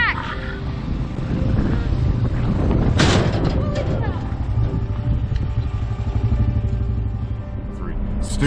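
Four-wheeler ATVs ridden around a dirt track: a continuous low engine rumble and drone with wind buffeting the microphone, while people talk over it.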